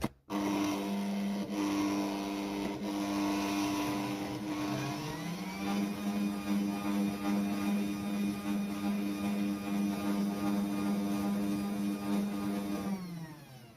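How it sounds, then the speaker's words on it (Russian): Electric hand mixer beating cake batter with sifted flour and baking powder, a loud steady motor whine that runs at low speed and then jumps to a higher pitch for the rest, close up with no talk. "И очень быстро перемешиваю. Сначала на минимальной скорости, а потом несколько оборотов на максимальной."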